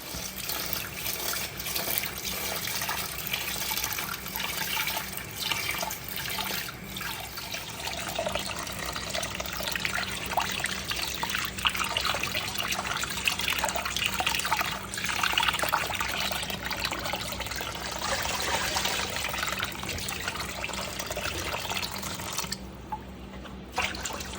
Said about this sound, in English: So I drain the rice, the water from the rice, then I'm gonna put it in the pot.